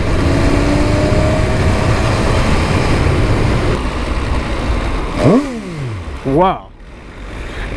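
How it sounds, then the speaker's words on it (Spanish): A 2018 MV Agusta Dragster 800RR motorcycle engine with stock exhaust runs steadily throughout, with two quick revs near the end rising and falling in pitch; a voice briefly exclaims once. "ese es el sonido de stock de la moto"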